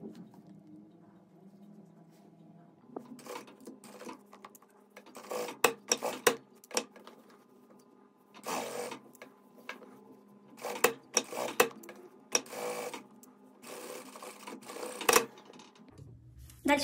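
A sewing machine stitching a framed pocket with a flap, in short irregular bursts of whirring and rattling separated by quiet gaps, close and moderately soft, with occasional handling clatter.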